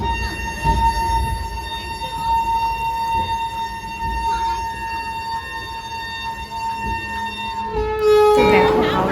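A train pulls into Howrah station, with a long sustained horn tone held for several seconds amid rumbling carriage and station noise, ending in a louder burst.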